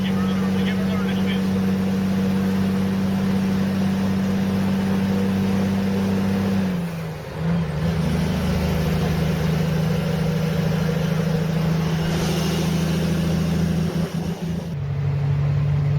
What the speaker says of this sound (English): This engine is under so much load, man.